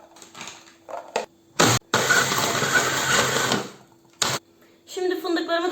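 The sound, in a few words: blender grinding biscuits and hazelnuts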